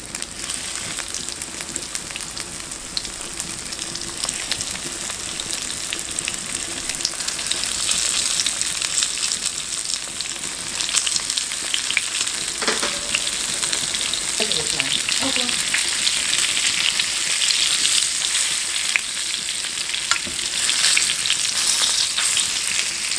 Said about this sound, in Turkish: somonları dikkatli bir şekilde tavaya alarak önlü arkalı kızartıyoruz